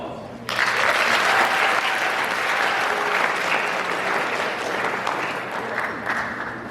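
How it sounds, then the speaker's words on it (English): An audience at a school Black History Month program breaks into loud, sustained applause that starts abruptly and holds steady for several seconds, a dense wash of many hands clapping. "Let's give him a round of applause."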